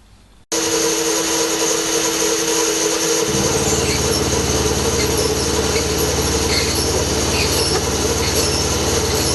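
A machine tool cuts a ridge off a metal hinge stop, starting suddenly after a short quiet moment and then running as a loud, steady, close grinding whine with a ringing tone that shifts partway through.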